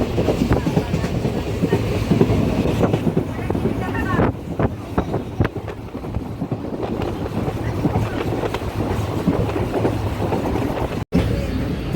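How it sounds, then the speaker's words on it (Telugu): A passenger train pulls away and runs along the rails, a steady loud rumble with rhythmic clatter of wheels and wind rush, heard from inside the carriage with a voice speaking over it. "ఇప్పుడు స్టార్ట్ అవుతుంది ట్రైన్"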